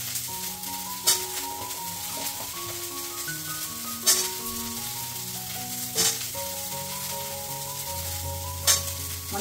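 Vegetables stir-frying in a pan over a home stove, giving a loud, steady sizzle throughout, with a few sharp scraping clicks from stirring at irregular moments and faint tonal background sounds, no talking.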